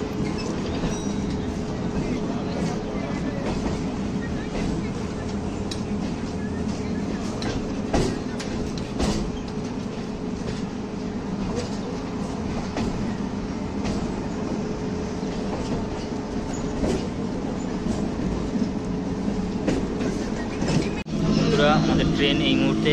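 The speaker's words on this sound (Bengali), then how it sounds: "আমাদের ট্রেন এই মুহূর্তে শিয়ালদা থেকে ছেড়ে দিল" Budge Budge local train pulling out of Sealdah station, a steady loud rumble and rattle of carriages throughout, with clatter rising near the end.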